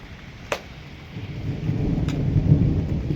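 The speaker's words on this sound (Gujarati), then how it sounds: "વાદળની ગર્જના થઈ રહી છે" Thunder rumbles from storm clouds over a rooftop during a rain shower, with two sharp close cracks followed by a low rolling rumble that grows louder over steady rain.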